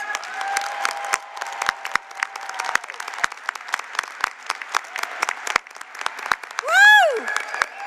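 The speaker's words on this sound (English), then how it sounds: "Let's give all of our graduates a round of applause." Applause from a commencement audience honoring College of Saint Rose graduates, steady clapping over about eight seconds with a short cheering shout near the end.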